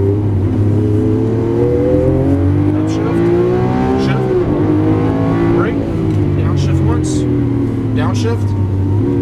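A 2012 Lamborghini Aventador on a race track, its engine droning and rising through revs with tire noise as it accelerates out of a turn, loud and steady throughout while an instructor talks over it.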